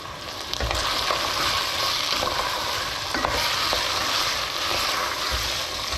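Onions frying in plenty of fat in a pan give a steady, close sizzle with occasional stirring scrapes and pops. No talking over it.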